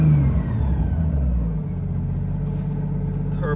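Volvo 240 turbo engine with a blown charge pipe revving at close range, a heavy low rumble that falls off after the first second and a half and then holds a steady, strained drone.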